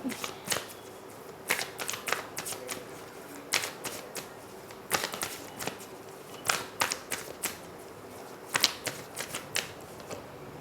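Tarot cards being shuffled by hand nearby, a long run of crisp riffling and slapping bursts at an uneven rhythm over a quiet room, with no talking.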